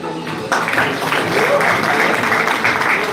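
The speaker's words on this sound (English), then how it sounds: "You all can clap." Graduation ceremony audience clapping for a student being called up, a steady rattle of many hands that starts abruptly and holds at an even, moderately loud level in a large hall.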